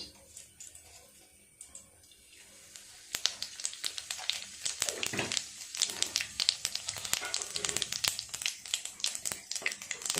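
Panch phoron spices drop into hot oil in a kadai and set off a lively, crackling sizzle of rapid pops and spits that stays close and fairly loud after a quieter start, with a voice faintly under it.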